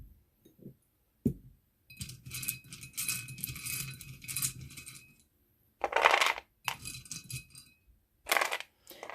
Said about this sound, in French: je vais aller voir avec les lettres et les breloques pour terminer